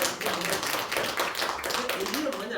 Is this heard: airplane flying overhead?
no